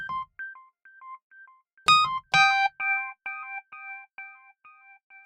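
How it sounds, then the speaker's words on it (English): Rhodes V8 Pro electric piano VST with tape echo emulation: a few soft notes, then bright chords whose repeats trail off in a steady, fading echo, heard alone. "So there is some tape echo emulation going on in here."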